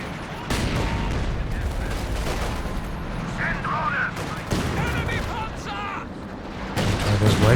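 Artillery barrage in Company of Heroes 2: dense, continuous rumbling explosions and gunfire fill the whole stretch, with heavy low booms near the end, while voices talk over the battle.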